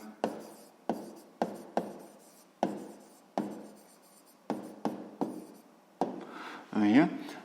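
Chalk writing out an answer on a classroom board during a sixth-grade maths lesson: a run of short, sharp taps and scratchy strokes in an irregular rhythm, close and clear, ending in a longer rubbing stroke.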